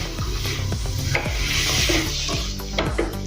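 Vegetable pulao rice with coriander powder being stirred in a pan, a steady sizzle under repeated scraping strokes of the spoon against the pan, close and fairly loud, with no talking.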